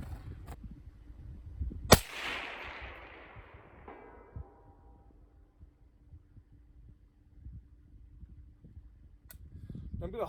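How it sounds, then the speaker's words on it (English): A single sharp rifle shot rings out at a 400-yard target outdoors, its report decaying over a couple of seconds, followed by a fainter crack later amid low background noise. "So I'm going to shoot that 400 target a few more times"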